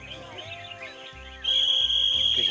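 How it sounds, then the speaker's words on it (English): Competing songbirds at a bird singing contest trill and chirp in quick phrases, close by, followed by a louder sustained whistling song. "These birds, they just don't know how much to sing"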